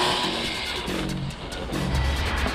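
A WLtoys radio-controlled car races past at high speed, its whining motor rising and falling steadily for a couple of seconds with a loud, continuous buzz close by.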